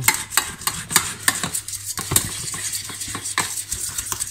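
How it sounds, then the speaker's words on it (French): A caramel mousse cream mixture being whisked and stirred in a pan, with repeated scraping strokes of the whisk against the metal, close and fairly loud, in an uneven rhythm and with no talking. "Donc je mélange bien, je surveille."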